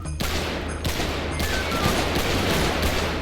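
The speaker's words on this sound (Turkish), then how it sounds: "Oğlum çok büyük çatışma var ha." Rapid gunfire from a big shootout in a GTA V FiveM roleplay game, dense overlapping shots and bursts that keep up loudly and steadily with no break.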